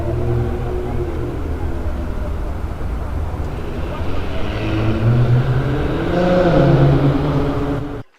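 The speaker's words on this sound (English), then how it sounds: "Now there's a noisy car." A loud car passes close by at a busy cruise port, its engine noise rising and swelling over a steady low rumble of harbour and ship background.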